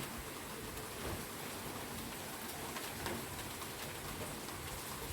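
A soft, persistent rain shower makes a uniform wash of hiss with occasional drop taps, steady throughout with no voices.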